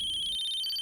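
A phone ringtone for an incoming call sounds as a steady, electronic high-pitched tone, close and continuous, with no one talking over it.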